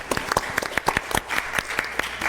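Applause for a presenter and panelist on a mining and energy program: a small group's scattered, uneven handclaps, close and moderately loud, with no talk over them.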